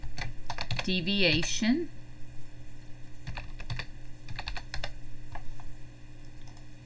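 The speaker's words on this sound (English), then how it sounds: "I'm just going to type standard" Quick bursts of computer keyboard typing, close and crisp, with a short spoken word and a steady low hum underneath.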